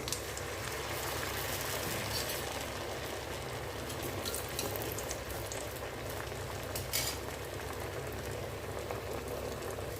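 Stuffed poori samosas fry in a pan of hot oil, bubbling and crackling continuously at close range, with occasional louder pops and no talking.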